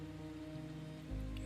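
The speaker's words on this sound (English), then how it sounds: "The rain continues outside" Steady rain falls outside a bakery window, a soft continuous patter with a low hum beneath it and a slightly louder swell near the end.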